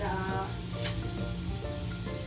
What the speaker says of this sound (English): now you can see the garlic is turning brown